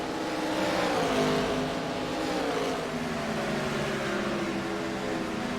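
Race cars at Phoenix Raceway drone past, several engines blending into a continuous, slightly shifting whine heard from a distance.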